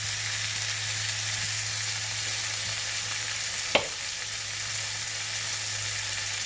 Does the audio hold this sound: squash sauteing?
yes